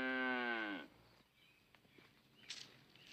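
A cow gives one loud, drawn-out moo whose pitch slides downward, followed by quiet farmyard background with faint, scattered small sounds.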